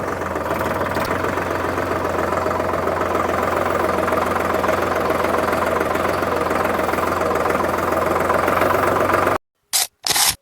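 A Solis Yanmar 5015 E tractor engine runs at a steady, loud diesel idle with an even low throb, then cuts off abruptly near the end, leaving two short bursts of sound.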